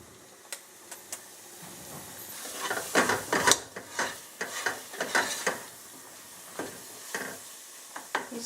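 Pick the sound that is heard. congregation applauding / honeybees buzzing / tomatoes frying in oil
tomatoes frying in oil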